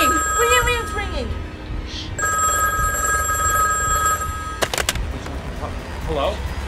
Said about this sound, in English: it's ringing, it's ringing. Wait, it's ringing.